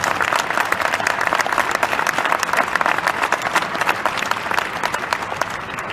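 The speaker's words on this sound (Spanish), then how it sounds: "Un aplauso enorme para Carlos García" A large audience at a conference hall in Aguascalientes, Mexico gives loud, continuous applause, a dense and even roar of clapping from beginning to end.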